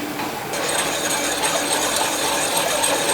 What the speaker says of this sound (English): We can hear the oven. I can hear the oven.